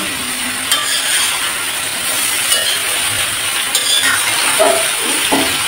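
Vegetables sizzling in a frying pan while being stirred, a steady close hiss of hot oil broken by scraping clinks of the spatula against the pan, with no talking.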